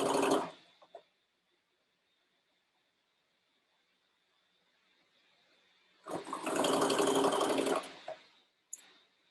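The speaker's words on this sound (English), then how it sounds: "we're going to stitch all the way over to that cuff seam on the other side" A sewing machine stitching a sleeve underarm seam on a boy's dress shirt, with a short whirring burst at the start, a long quiet pause, then a longer steady run of close, loud stitching and a brief final burst.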